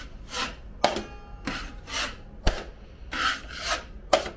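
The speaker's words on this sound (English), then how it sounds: "put the pressure on the outside of my knife, feather the edge, and wipe off the excess" Repeated rasping scrapes of a putty knife across joint compound on a drywall patch, close and rhythmic, each stroke a broad swish with occasional sharp taps between them.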